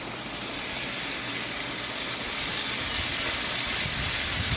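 Steady broadband sizzling hiss of smash burger patties frying on a hot griddle, continuous and fairly close with no talking.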